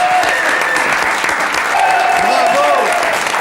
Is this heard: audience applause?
yes